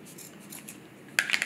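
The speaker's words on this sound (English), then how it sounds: "Now I'm going to cut my excess off with my scissors." Two or three quick snips of scissors cutting through thin nylon near the end, after a quiet stretch of soft handling noise.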